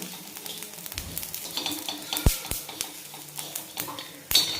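Cloves and cinnamon being stir-fried with masala in a pan for a mutton curry, a soft steady sizzle with sharp spatula knocks and scrapes against the pan.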